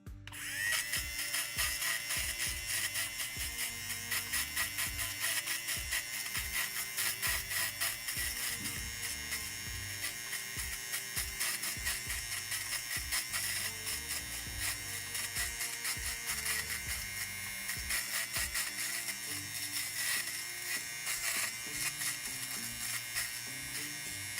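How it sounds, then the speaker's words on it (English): Steady electric sanding of a puppet part in a workshop, a continuous close buzzing drone with small rhythmic dips as the sander is tapped and moved around the piece, running alone for the whole stretch. "I move it around as I'm sanding it."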